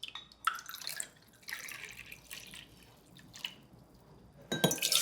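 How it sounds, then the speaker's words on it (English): Rye whiskey poured from a jigger into a mixing glass, heard as a few short liquid trickles and drips in separate bursts, close and fairly quiet, with a brighter splash near the end. "we're gonna pour it into our mixing glass"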